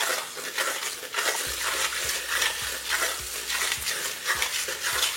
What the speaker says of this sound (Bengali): তারপর গ্যাসের ফ্লেমটাকে মিডিয়াম করে এটাকে আপনাদের ভালো করে ভেজে নিতে হবে পেঁয়াজের সাথে